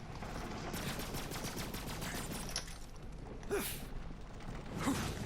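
Gunfire in the video game Borderlands 3, rapid repeated shots forming a dense fusillade with mechanical clanks and a couple of sharper effects, loud and continuous throughout.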